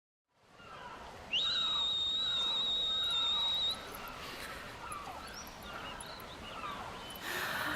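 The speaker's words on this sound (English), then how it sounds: "She whistles again and again to the waves." Yuna whistles to the waves from a pier in the Final Fantasy X ending scene: one clear, long, high whistle rises and then holds steady for about two seconds over a soft wash of ambient sea noise.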